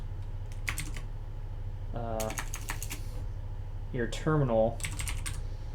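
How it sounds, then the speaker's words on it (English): Rapid clicks of computer keys as a command is typed into a Linux terminal, in short bursts with someone talking between and over them. "the thing you can do is just type in the application you want."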